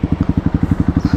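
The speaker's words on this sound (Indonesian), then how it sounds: "Tak geber-geber di sini. Ini mode racing." Honda CRF 150L dirt bike fitted with a Tridente F19 aftermarket exhaust, revved in racing mode, giving a fast, even train of loud, close exhaust pulses.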